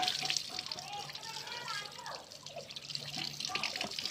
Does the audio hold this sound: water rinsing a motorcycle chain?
yes